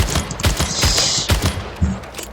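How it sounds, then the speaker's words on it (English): A carbine firing repeatedly in the video game Splitgate, a loud, rapid string of sharp shots at an uneven rhythm, close and alone. "now let's go on to an actual gun, the carbine"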